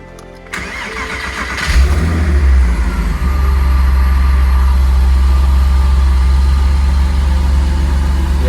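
A Porsche race car engine cranks briefly and catches after eight years unused, then settles into a loud, steady, deep idle close by.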